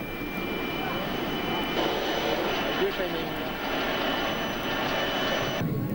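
Steady loud roar of an airplane engine heard from close by at about 2500 metres altitude in mountainous China, continuous and unbroken, with people talking over it.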